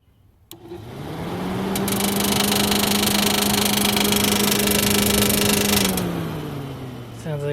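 A 1989 Jeep Cherokee engine starts on its first test run after cooling system work, settling into a loud, steady close-up running drone with faint ticking from the valvetrain, then shuts off and winds down.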